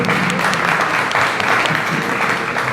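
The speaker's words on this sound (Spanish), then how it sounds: "un aplauso para ustedes que están acá" Audience applause at a book fair conversation event in Bogotá, dense and sustained clapping from a close, full crowd throughout.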